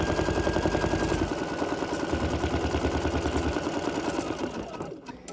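An embroidery sewing machine stitches with a fast, loud mechanical hammering rhythm that shifts pace partway through, then stops near the end with a brief clatter of thread trimming.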